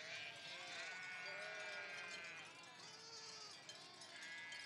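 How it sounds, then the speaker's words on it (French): A flock of Scottish Blackface sheep is moved off meadows flooded by the Garonne. Many overlapping bleats rise and fall continuously, close by, with faint rustle beneath. "elle doit déplacer ses moutons"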